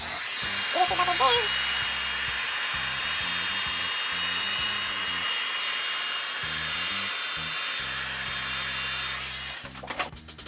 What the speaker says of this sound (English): Okay, heat gun one more time.